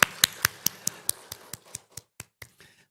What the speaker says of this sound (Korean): 귀한 찬양 하나님께 감사의 박수 올려드리겠습니다